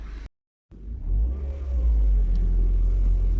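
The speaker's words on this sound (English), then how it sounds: "nobody really ever talks about the engine sound, and it has this very sophisticated, quiet sound to it" A Mercedes SLK200 engine starts after a brief silence, then settles into a deep, steady, quiet rumble with a low, smooth hum that holds evenly throughout.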